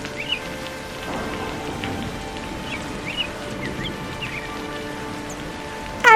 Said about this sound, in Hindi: ये बारिश तो हमारा जीवन बर्बाद करके रखेगा।